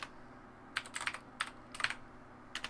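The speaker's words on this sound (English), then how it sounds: "I have terrible typing." Clacking bursts of keystrokes on a computer keyboard come in short irregular clusters with brief pauses between, fairly close and crisp over a faint steady room hum.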